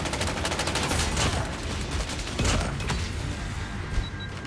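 Rapid bursts of gunfire ring out in a Call of Duty Hardpoint match, loud overlapping volleys with a few heavier booming shots, steady and close, with no talk.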